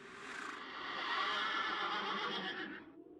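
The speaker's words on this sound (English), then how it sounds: "Another neigh from the green horse was heard." A horse gives a single drawn-out neigh at an inn, a faint, somewhat distant whinny that swells and fades over a few seconds with no talking.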